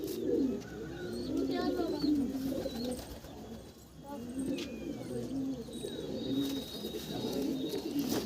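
Soft, repeated low cooing of pigeons close by in a pigeon loft, with faint chirps and background murmur.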